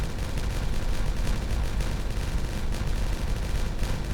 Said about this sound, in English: we are ready for some more beautiful explosions